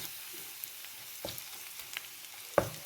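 Food fries with salt in a pan, a faint steady sizzle under a few sharp scraping clicks of the stirring utensil, the loudest scrape near the end.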